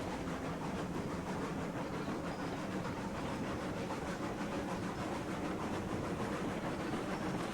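Steam locomotive from the railroad game Railroads Online running steadily, a dense continuous chuff and rolling rumble with faint clickety-clack throughout, loud and close with no talk.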